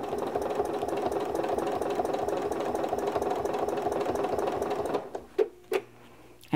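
A sewing machine stitches steadily through a quilt sandwich during ruler quilting, a fast even rattle of the needle running for about five seconds before stopping, then a few short knocks and handling noises.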